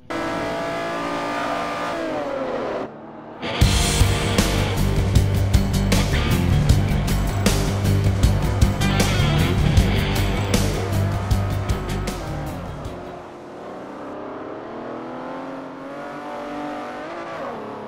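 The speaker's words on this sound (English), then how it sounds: "I flipped my Ferrari over. Here is some video of that." A Ferrari 250 California in a racing video game flips over, its engine roaring loud and steady under heavy layered game noise, then cutting out abruptly as the crash ends and fainter engine sound continues.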